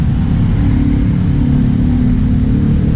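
A car engine in poor condition that keeps stalling, running loud and close with a steady low rumble and no clear rise in pitch, heard alone.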